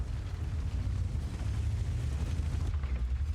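In a tank video game a tank gun fires and the shell explodes, a low, rumbling boom that rolls on for several seconds at moderate level before tailing off.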